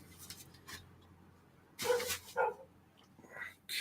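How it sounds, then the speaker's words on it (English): Dogs bark outside beyond an open window, a few distant, moderately loud yaps in short bursts over a quiet indoor room. "Apologies if you can hear barking dogs and passing cars and stuff out."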